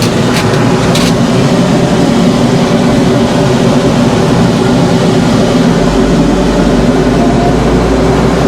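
A tractor engine runs steadily at about 2,000 RPM while plowing a field in fall, a loud continuous drone with a low rumbling undertone and no break.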